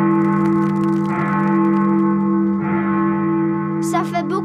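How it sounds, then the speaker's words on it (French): Big Ben's great bell striking the hour in a cartoon, deep tolling strokes ringing out with long, humming, reverberant sustain, followed by a brief burst of a voice near the end. "C'est le son de la grande cloche qui sonne afin de signaler l'heure."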